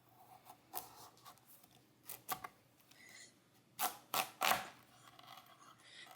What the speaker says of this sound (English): we're just going to cut this pumpkin in half